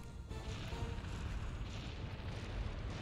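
Cannon fire in Monster Hunter World rolls as a dense, steady wash of deep booming explosions, loud and blended together without clear gaps.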